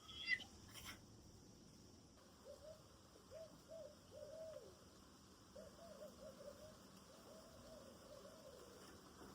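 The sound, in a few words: owls hooting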